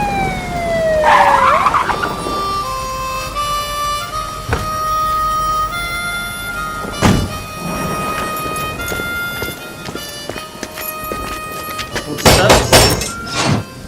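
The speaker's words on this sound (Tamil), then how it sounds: "சைரன் காதை கிழிக்குது." A loud police siren wails through sweeping rising and falling tones, with sharp bangs and mechanical clatter mixed in, bursting louder near the end.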